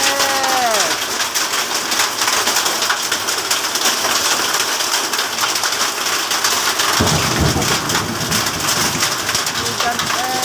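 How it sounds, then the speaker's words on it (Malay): Hail pours down in front of a house in Selangor, Malaysia, as a dense, steady roar of hard pellets striking the ground, with a thunder rumble partway through. "Hujan es. Berjatuhan banyak di depan rumah."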